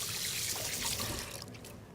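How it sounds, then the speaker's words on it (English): Tap water runs steadily while hands are washed after handling raw chicken in a home kitchen, a soft continuous trickle close by with no talk. "let me just clean this up and wash my hands"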